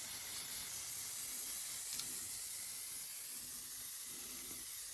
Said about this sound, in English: I like the spray paint because you can give it a nice blended appearance.